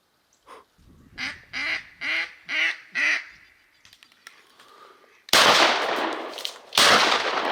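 Mallards on a small Kansas creek during a late-season duck hunt give a series of five loud, evenly spaced quacks, followed by a few softer calls and then a burst of harsh, sharp noise.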